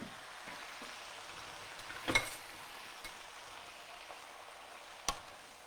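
Faint, steady sizzle of rice noodles being sautéed in a wok for pad thai, with occasional sharp clatters as the noodles are tossed.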